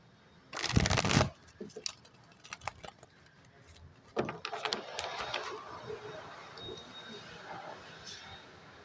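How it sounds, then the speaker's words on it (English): A sharp riffle of tarot cards being shuffled, followed by scattered taps and softer handling noises, close and fairly quiet. "We get one more shuffle here for Cancer."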